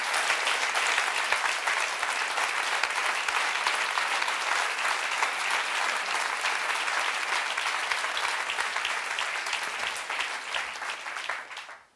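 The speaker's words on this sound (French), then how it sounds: "Vous pouvez vous applaudir." Sustained, dense applause from a large gala audience at an awards ceremony, steady and loud for the whole stretch before tapering off abruptly at the end.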